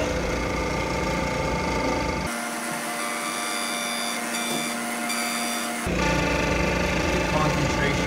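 A milling machine side-mills a billiard ball with a loud, steady mechanical whine and cutting buzz that shifts in tone midway as the cut changes, close and continuous throughout.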